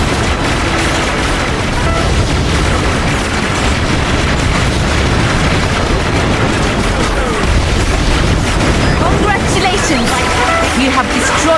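Artillery vehicles blowing up in the Battalion Wars 2 video game: a dense, continuous wall of loud booming explosions and rumbling blasts fills the whole stretch without letting up.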